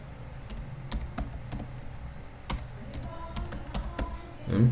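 Keys clack on a computer keyboard as the hostname command is typed, with irregular close taps separated by brief pauses and a faint low hum beneath, and nobody speaking.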